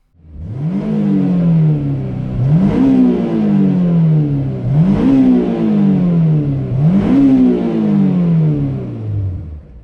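A Honda S2000 engine revs hard into VTEC four times in a row, each pull rising sharply in pitch then falling away, loud and close with a harsh, raspy edge.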